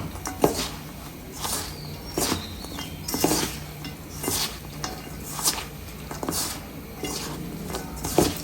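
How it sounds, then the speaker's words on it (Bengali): Carrot pakora batter is mixed by hand in a bowl, with soft, repeated squelching and scraping strokes at an even rhythm and the occasional light clink against the bowl. "এখন আমি সবগুলো দিয়ে মেখে নেব"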